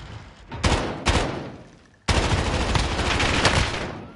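Gunfire in Call of Duty: Warzone, a couple of sharp close shots followed by a sustained, loud burst of rapid automatic fire that rattles on without pause.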